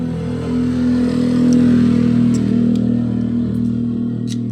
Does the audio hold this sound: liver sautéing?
no